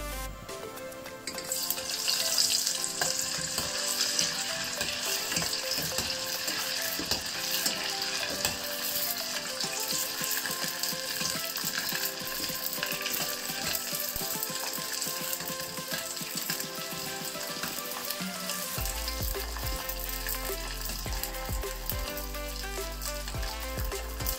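Pork crackling (chicharon) frying in very hot oil, a loud continuous close sizzle with crackling pops throughout, steady in level, with a low rumble entering near the end.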